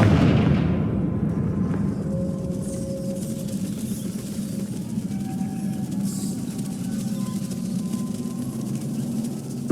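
A Confringo fire spell blasts in the Hogwarts Legacy video game, opening with a sharp burst that rolls into a loud, sustained booming rumble lasting several seconds.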